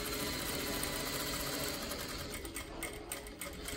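A sewing machine stitches a wrap skirt waistband seam in a continuous rapid mechanical chatter, close and steady, with slight pauses toward the end.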